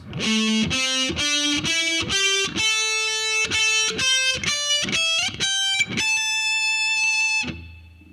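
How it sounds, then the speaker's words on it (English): A distorted electric guitar runs a two-octave pentatonic scale in a heavy metal lesson, about a dozen picked notes stepping up then back, the last held and ringing before cutting off, with no voices. "So 2 octaves sounds like this."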